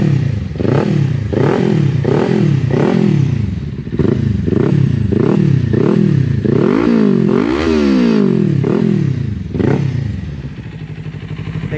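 Kawasaki Ninja 400 fitted with a stainless steel sport exhaust revs repeatedly, a series of sharp rising and falling throttle blips close up and loud, with a longer sweep near the middle before settling to idle.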